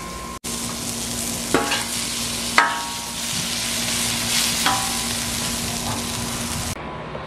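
Duck breast, peppers and onions sizzle steadily in a hot pan, a close continuous hiss broken by a few sharp clinks of a utensil stirring.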